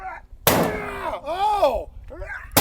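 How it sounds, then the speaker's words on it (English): A sledgehammer strikes a Harbor Freight gun safe once, giving a single loud, close metal slam. A person's drawn-out exclamation follows it. "the first thing that I find myself wanting to do to this thing is just smack it with a sledgehammer."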